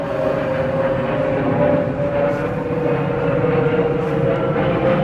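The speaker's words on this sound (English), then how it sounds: "Airplanes." A propeller or jet airplane passes over a cemetery with very old graves, a steady loud drone holding through the whole stretch with a sustained tonal hum.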